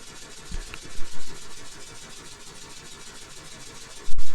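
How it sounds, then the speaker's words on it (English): A simulated steam engine from the Steam Engine Simulator game runs with a steady, low mechanical churn, a continuous mid-level drone punctuated by a couple of soft bumps and a louder swell near the end. "I really hope you can hear the steam engine"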